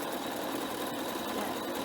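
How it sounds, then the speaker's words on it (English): A household sewing machine stitches fabric in a steady, fast mechanical whir with a fine rhythmic chatter, running continuously and close by with no talking. "I'm just gonna sew it a little farther than I need to"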